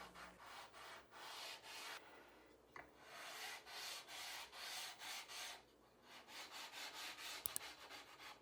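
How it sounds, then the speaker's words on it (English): Rhythmic back-and-forth rasping of sandpaper on wood, steady strokes in quick succession with a brief pause midway, close and fairly quiet. "I'm going to give it a short sanding"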